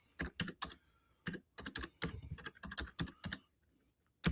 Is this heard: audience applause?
no